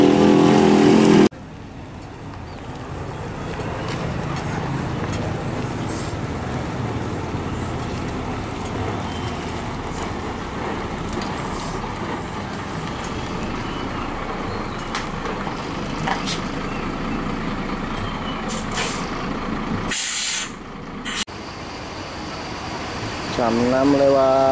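Evening ambience at the Pasar Sayur Cipulir bus terminal: a steady wash of idling engines, traffic rumble and distant voices, continuous and moderately loud, with a brief drop near the end before the noise resumes.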